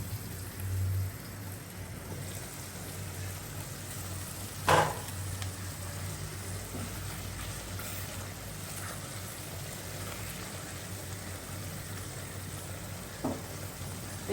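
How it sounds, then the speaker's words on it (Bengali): Eggplant frying in a small amount of oil with salt and turmeric hisses steadily and softly for the whole stretch, with a single sharper clatter partway through. "বেগুনটা হালকা তেলে ভাজবো।"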